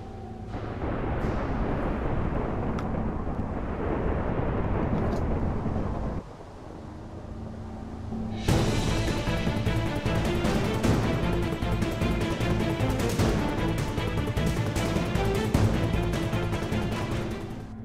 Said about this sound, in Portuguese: Caiu um raio aí.